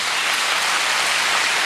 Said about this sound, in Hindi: आप लोग अपने लिए जोर से ताली बजाइए।